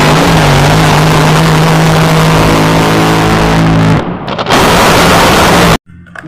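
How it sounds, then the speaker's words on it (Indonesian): A video game speedboat engine roars loudly and steadily, then cuts off in an abrupt break before resuming and ending sharply. "Wow, ada speedboat."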